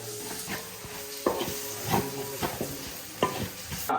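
Beef curry with tomatoes is stirred in a hot pan, giving a steady sizzle with a spoon scraping through it in repeated strokes about every second, close and moderately loud, with no voices.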